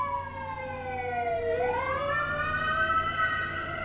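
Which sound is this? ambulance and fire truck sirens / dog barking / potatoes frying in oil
ambulance and fire truck sirens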